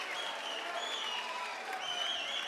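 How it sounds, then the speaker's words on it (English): A crowd cheering and applauding at the end of a round at an MMA fight night, a dense, steady roar with whistles rising above it, filling the arena. "The crowd comes alive"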